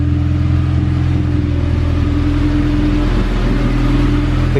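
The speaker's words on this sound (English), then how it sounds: "That's my muffler delete," Acura Integra engine idling through its muffler-delete exhaust and new piping, a loud, steady, deep drone with a slightly lumpy rumble, close by and with no speech.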